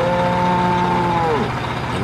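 A black cow being readied for Qurban slaughter at Eid al-Adha gives a single long, loud moo that slides downward at its end, with a low rumble of engine or vehicle noise underneath.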